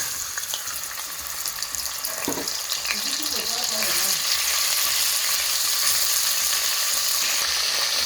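Beef pieces hit hot olive oil in a pot and set off a loud, steady sizzle that builds and holds, with a brief clatter as they go in.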